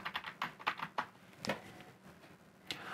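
Typing on a computer keyboard while entering commands in early AutoCAD: a quick run of close, crisp key clicks, then a few scattered separate presses with short pauses, heard alone without talk.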